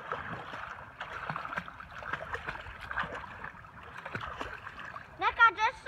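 A child kicks and splashes through the water during a swim lesson, with continuous choppy splashing and an adult voice coaching over it before a louder burst at the end.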